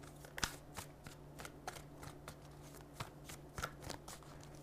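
A self-compassion card deck is shuffled and cards are pulled: quiet, crisp riffling and flicking snaps in quick irregular bursts, close by against a faint steady hum, with no talk.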